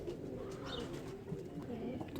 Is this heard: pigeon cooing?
yes